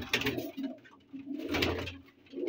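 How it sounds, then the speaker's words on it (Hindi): Pigeons coo in a soft, throaty pattern, close by in a loft of old high-flyer breed birds, with two swelling bursts separated by a short lull. "ये बड़ा कबूतर है"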